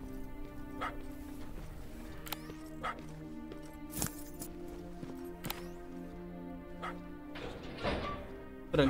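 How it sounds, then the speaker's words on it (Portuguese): In the video game Terminator Resistance, a dog barks in short, sharp yaps repeated at irregular intervals over a humming tonal game background, at moderate distance. "Mano, tem um cachorro aqui"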